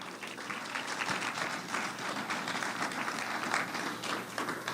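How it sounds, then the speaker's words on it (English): Audience at a panel discussion on partnerships applauding, steady dense clapping from many hands throughout, moderately loud with a faint voice underneath. "Let's give her a round of applause."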